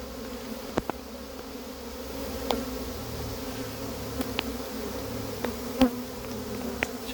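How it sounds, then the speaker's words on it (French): Dense buzzing of a honeybee swarm being shaken into a hive box, a steady close hum with occasional sharp knocks and thumps scattered through. "gros paquet d'abeilles tombé sur le..."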